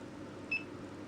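A single short electronic beep from a snake enclosure thermostat that is alerting because the door is open. The tone is brief and faint, over a quiet room hum.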